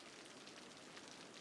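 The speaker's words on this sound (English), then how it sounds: "we just enjoy the sound of the rain and the thunder" Steady rain in the Cities: Skylines city-building game, a soft even hiss of falling drops with no distinct individual hits, heard faintly and alone.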